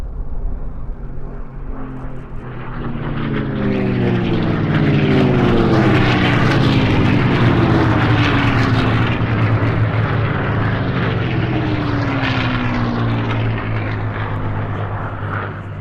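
Several racing propeller airplanes roar past close by at an air race, their engines swelling loud and sweeping in pitch as they pass, a continuous droning growl.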